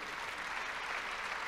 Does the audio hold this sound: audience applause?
yes